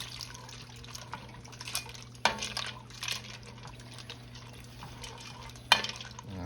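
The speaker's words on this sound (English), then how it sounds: "Throw the pasta noodles in there." Pasta noodles dropped into a simmering hamburger mixture in a pot, giving a soft watery splash and bubbling with a couple of sharper clatters, fairly quiet and steady with no talking.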